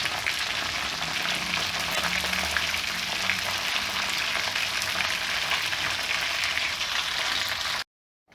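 Masala fish frying in a pan, a dense, even sizzle and crackle held close and steady for several seconds with no talking, ending in abrupt silence.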